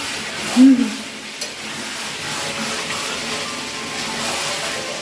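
Meat sautés in oil with spices, giving a continuous loud sizzle and frying hiss. A brief clunk of stirring sounds early on.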